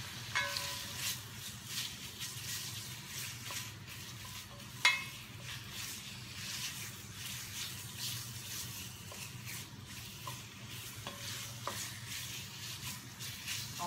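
Beef sizzling in a pan for sukiyaki, a soft, steady frying hiss with faint stirring, one brief clink partway through, and no talking.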